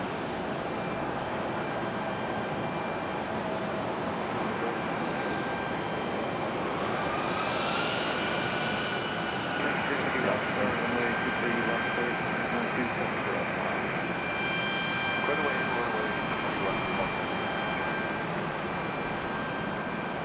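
Airliners idle on the taxiway at Raleigh-Durham International Airport while waiting for departure, a steady broadband jet engine roar with faint tonal whines filling the scene; a voice talks briefly over the din.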